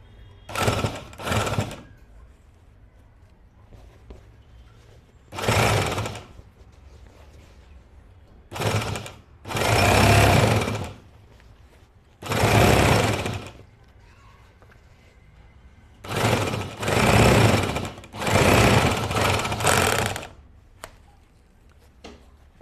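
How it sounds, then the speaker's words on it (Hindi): A bag closer sewing machine runs after its needle and looper setting, sounding in several loud buzzing bursts of one to two seconds each, separated by quiet pauses. "अब मैं आपको मशीन चला के बताता हूँ कि सुई और लूपर का सेटिंग करने के बाद मशीन रिजल्ट कैसा देता है"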